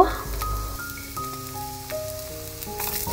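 Chopped garlic sizzles as it fries in hot oil in a pan, a steady soft crackle beneath a stepping musical melody.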